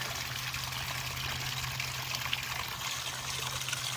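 Water pours steadily, washing away soft material on a small model desert slope, a continuous close hiss and trickle with no pauses.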